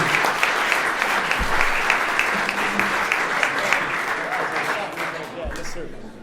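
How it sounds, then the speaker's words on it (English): Sustained applause from a crowd at a live broadcast in a flight lounge, dense and steady clapping filling the whole stretch and tapering slightly near the end. "Round of applause for those folks"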